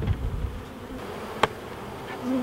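Honey bees buzz faintly around an outdoor hive while a new nuc is installed, a low steady insect hum with a sharp knock near the middle.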